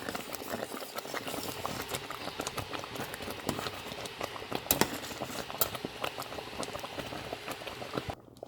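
Vermicelli and sago boil in a pot of water, a steady close bubbling and popping with constant small crackles throughout.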